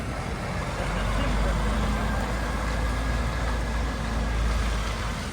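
A heavy concrete delivery truck pulls away with a steady, loud low-frequency engine rumble that continues throughout, while people talk nearby over the noise.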